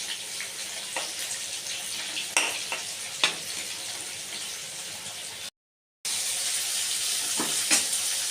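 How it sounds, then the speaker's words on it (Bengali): Potato pieces fry in a pan for a mutton curry, giving a steady hissing sizzle with a few sharper crackles and spits. No talk is heard, and a short full dropout comes near the end. "আলুগুলোকে লাল লাল করে ভেজে নেব।"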